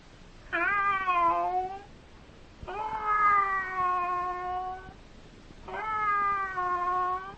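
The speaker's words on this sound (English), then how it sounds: "And that is a cat." Three drawn-out meows from a cat, each rising then trailing off, with brief gaps between them, heard as a recording on a vintage educational radio broadcast for schoolchildren.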